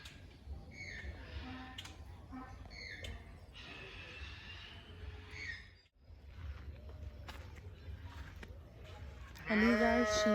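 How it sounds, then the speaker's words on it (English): Sheep bleating at Hope Zoo in Jamaica, a loud wavering bleat near the end that follows a steady spell of outdoor chatter, footsteps and background voices; someone talks. "And these are sheep."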